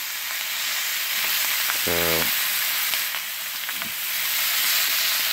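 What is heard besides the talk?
bratwurst searing and frying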